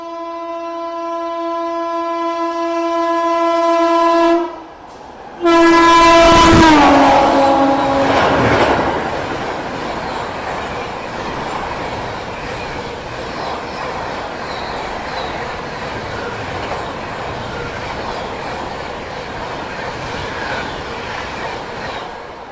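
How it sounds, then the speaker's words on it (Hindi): Gondwana Superfast Express train approaching with a loud, sustained horn blast, then roaring past at speed close by, followed by a steady rushing rumble of wheels and carriages. "सामने से आ रही है गोंडवाना सुपरफास्ट एक्सप्रेस।"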